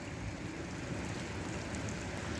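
Steady rain at night falling outdoors, a continuous even hiss of drops spread across the clip with no voices over it.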